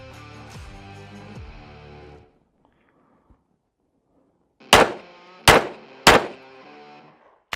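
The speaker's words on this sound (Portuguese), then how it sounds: "Vamos acelerar um pouco agora o nosso disparo" Three sharp pistol shots ring out about half a second apart during a police shooting drill, loud and close, with brief echoing tails, following a stretch of quieter background sound and a short silence.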